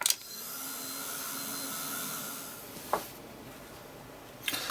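A heat tool blows steadily over an art journal page, a constant whirring hiss lasting several seconds, with a couple of brief clicks or knocks as it is handled.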